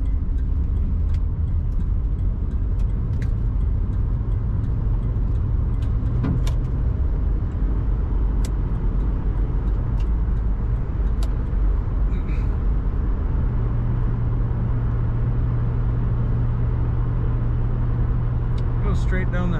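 A 1977 Oldsmobile Cutlass Supreme Colonnade cruises down a highway, with constant loud road and engine rumble heard from inside the car. A voice talks over the steady drone.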